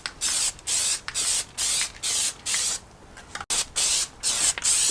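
Plasti Dip coating is sprayed from an aerosol can onto a car's cold air feed on a Vauxhall Corsa VXR, in about nine short hissing bursts with brief gaps between them.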